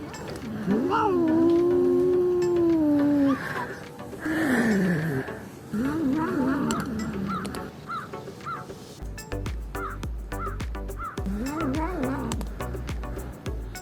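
Drawn-out, wavering cat meows and yowls, loud and close, broken by short pauses, with some background noise in the later part.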